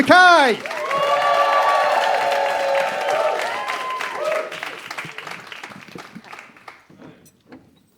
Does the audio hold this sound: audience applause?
yes